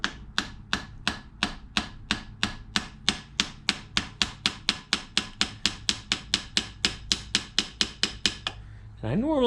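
A hammer peens a valve rocker fitting on a Rolls-Royce Springfield Phantom I, about thirty sharp, evenly spaced metallic taps in a steady quick rhythm, close and loud, ending with a brief rattle.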